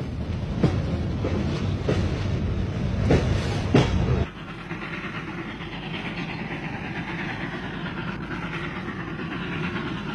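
A train riding westward through the Balkans, a steady rolling rumble with clacking wheel rhythm, louder and busier at first, then settling to a quieter, even drone.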